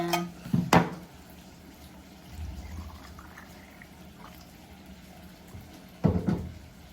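Water pours into a cooking pot for a broth of sardines and pechay, with a clatter of pot or utensil at the start and again near the end, and a softer pouring rush between.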